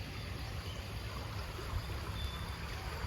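Shallow running stream beside a grassy campsite in Saraburi, Thailand, a faint, steady wash of flowing water with no talking over it.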